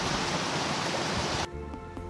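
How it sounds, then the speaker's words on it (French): A small woodland stream flows with a steady, close rushing hiss of water that cuts off abruptly partway through, leaving quieter outdoor ambience. "Un très beau ruisseau qui, j'espère, continuera à exister longtemps"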